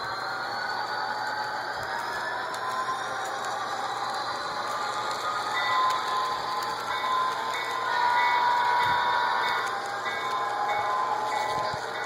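An Athearn Genesis Santa Fe FP45 model locomotive runs at 20 speed steps pulling train cars, giving a steady mechanical whir and gear hum with light rail clicks and a faint high motor whine throughout.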